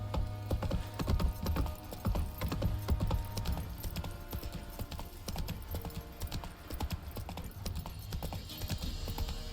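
Horse hooves in The Witcher 3 clip-clop in a steady trotting rhythm, fairly quiet, over a low ambient game background.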